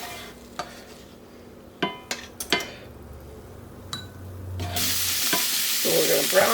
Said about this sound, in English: our ground beef. We'll just put it all in the hot pan.